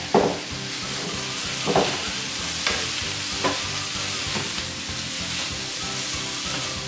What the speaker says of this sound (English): We're going to toss it all together.